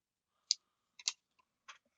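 Short snips of paracord ends being cut off a zipper pull, heard as four or five quiet, crisp clicks spread over two seconds with silence between them.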